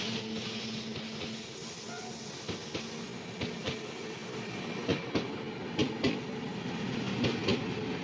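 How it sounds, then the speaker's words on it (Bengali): The Thiruvananthapuram Rajdhani express rumbles past close by, overtaking on the adjacent track, with steady rolling noise and a run of rhythmic wheel clacks growing more frequent toward the end. "এই প্রথম কোনো ট্রেন আমাদের ওভারটেক মারলো, সেটা হচ্ছে ত্রিবান্ধম রাজধানী।"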